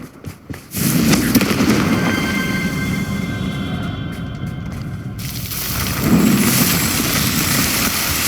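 Repeated fiery Confringo spell blasts in the video game Hogwarts Legacy, a loud broadband burst near the start followed by sustained crackling rumble that swells again toward the end.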